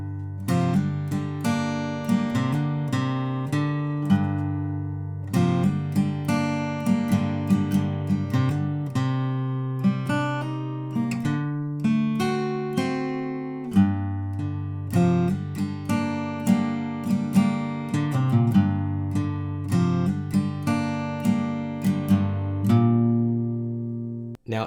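Guitar playing the post-chorus of Wayfaring Stranger from The Last of Us Part II, with steady plucked chords and picked notes in an even rhythm, close and clear, with no talk.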